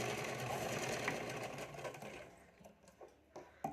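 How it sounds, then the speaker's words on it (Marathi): A domestic sewing machine runs a steady, rapid stitching whirr along a folded fabric strip for a princess-cut front panel, then slows into short intermittent bursts and stops. "पट्टी अशी फोल्ड करून वरतून आपल्याला पट्टीवर दहा टीप टाकत घ्यायची आहे"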